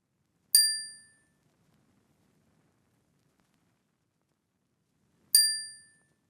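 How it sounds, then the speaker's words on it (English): Two bright metallic triangle strikes, each ringing out and fading over about half a second, separated by several seconds of near silence. "This is the triangle noise."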